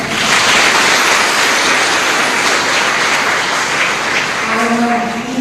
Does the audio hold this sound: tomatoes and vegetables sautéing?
no